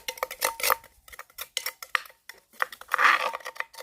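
Glass bottles clink and knock together in quick, irregular taps and rattles, close and fairly loud, with brief pauses between bursts and no talk.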